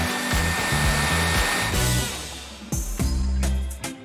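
A hair dryer blows with a steady whooshing hum, its motor cutting out and restarting a few times in short bursts.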